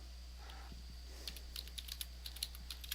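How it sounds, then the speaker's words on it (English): Commands typed on a computer keyboard while installing Kali Linux, heard as a quick, irregular run of soft, close key clicks over a low steady hum. "these are the commands that we pretty much want to type in"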